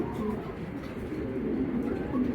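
Two active racing pigeons of a foreign bloodline coo softly and repeatedly at close range, low murmuring calls over a little background noise.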